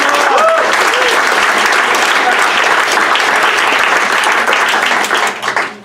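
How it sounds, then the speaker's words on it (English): Sustained applause from a graduation audience at a summer leadership panel, loud and dense throughout, with a voice briefly audible near the start before fading at the end. "give a real round of applause for how awesome it is."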